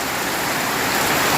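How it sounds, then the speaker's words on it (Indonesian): Heavy rain pouring down steadily in a village setting on the edge of Kampung Cimaung, a dense, continuous hiss that stays loud and unbroken with no voices. "Hujannya sangat deras ya Baraya semua."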